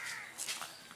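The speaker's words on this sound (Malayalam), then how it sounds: "കാക്കന്റെ സൗണ്ട് ഇവിടെ എടുത്ത സമയത്ത് ഓപ്പോസിറ്റുള്ള കാക്കകൾ അപ്പൊ തുടങ്ങിയാണ്" Crows calling from across the way, a couple of brief harsh caws heard fairly faintly at a distance, with no talking.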